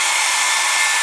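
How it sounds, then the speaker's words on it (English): A hair dryer blows steadily at close range, melting wax onto the surface of Altberg Sneeker leather boots, a continuous loud airy roar with no pauses. "I hope it's not getting too noisy with the hairdryer, but what I'm doing is just melting the wax"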